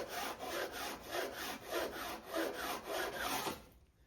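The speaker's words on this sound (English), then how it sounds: "So it's just a little bit of gentle sawing work." Gentle hand sawing in a wood groove, close and quiet, with steady back-and-forth rasping strokes at an even rhythm, about eight strokes before stopping, with no talk.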